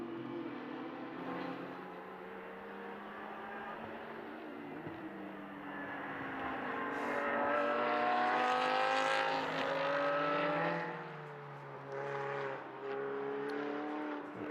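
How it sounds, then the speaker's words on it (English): Lamborghini Super Trofeo race cars lapping Mugello circuit, several engines droning and revving with rising and falling pitch as they pass, moderately distant, with a louder swell midway. "And Alfredo Hernandez filling Cesar van der Westen's mirrors with that beautiful gold liveried Lamborghini Super Trofeo"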